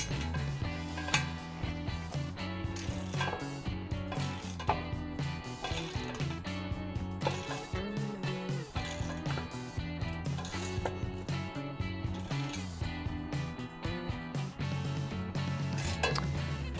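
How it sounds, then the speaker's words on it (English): A ratchet clicks steadily while tightening a MotoTote m3 motorcycle carrier platform onto square tubing, its repeated ratcheting mixed with continuous background music. "While tightening the platform to the square tubing, make sure the gaps are closed."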